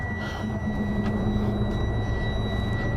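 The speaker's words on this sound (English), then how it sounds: "So that sound you're hearing right now is just telling you one of my compressors doesn't have enough air" Low air pressure warning buzzer in a 2021 Freightliner M2 112 truck, a steady continuous high tone held over a low engine rumble inside the cab, without speech.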